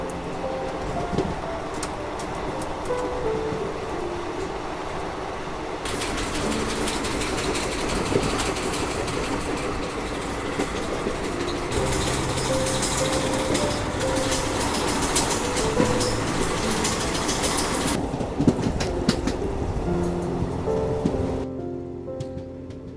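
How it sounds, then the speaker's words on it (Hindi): A Garib Rath Express passenger train runs on rails with a continuous loud rumble and rushing noise, with bursts of brighter rattling and clickety-clack partway through. "हमारी ट्रेन जो है वो अब मुड़ चुकी है श्री सत्य साई प्रशांति नीलम की तरफ"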